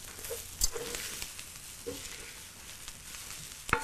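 Potatoes, bamboo shoots and black-eyed peas for aloo bodi tama fry softly in a pan, a faint steady sizzle broken by a few scraping stirs of a spoon.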